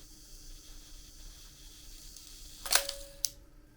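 A Pentax LX film camera fires its shutter after the self-timer runs, a low faint whir followed by a sharp mechanical clack and a second small click, alone in a quiet room.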